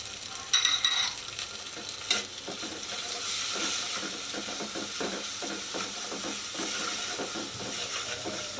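A spice paste with chilli paste, salt and turmeric fries for a fish curry with a continuous hissing sizzle, overlaid by scraping and stirring taps of a spoon in the pan.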